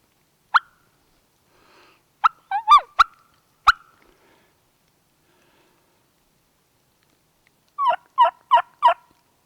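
A wild turkey flock gobbles about 150 yards away across a ravine, sharp calls coming in scattered bursts with a quick rhythmic run of four near the end and silence in between.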